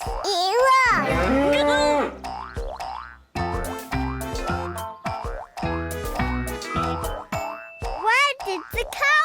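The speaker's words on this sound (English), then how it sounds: "You two made that moo cow" A cartoon cow gives a series of drawn-out, wavering moos in a children's nature episode, interleaved with bouncy comic sound effects and brief animated voices, loud and close throughout.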